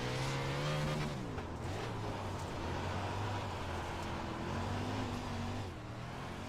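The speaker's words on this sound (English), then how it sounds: "360 non-wing sprint car," A 360 non-wing USAC-style sprint car races on a dirt track in iRacing, its engine droning loud and close, the pitch dipping and climbing as the car moves through a corner, with a brief tire scrub in the middle.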